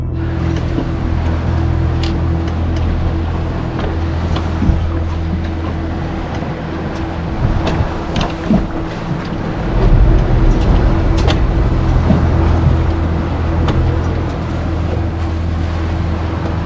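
A motor boat engine drones steadily close by on the water, a low continuous rumble with splashing that swells as the boat passes around ten seconds in.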